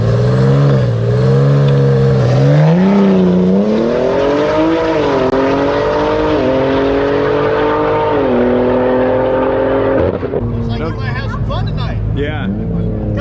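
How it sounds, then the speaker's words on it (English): A BMW M3 Competition on a drag strip pulls hard through its gears, loud and close, the engine note climbing and dropping between shifts before the car fades away, with a commentator's voice running over it. "BMW M3 Competition is making a second pass"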